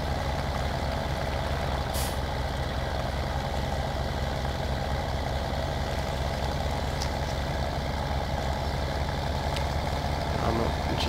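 A heavily loaded tractor strains its engine while hauling in the Farming Simulator video game, giving a steady, low, droning rumble at an unchanging level, with a few faint brief clicks and hisses over it.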